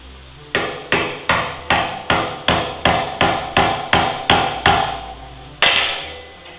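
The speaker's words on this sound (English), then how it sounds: "I had to tap it in there with a hammer." A hammer taps a pin into an irrigation valve during a machining repair: about a dozen sharp, evenly spaced metallic strikes close by, then a short pause and one final blow, with no talking.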